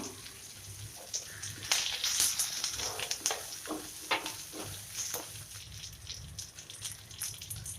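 Drumstick leaves dropped into hot oil with browned onions, giving a steady close sizzle with crackling and the scrape of stirring.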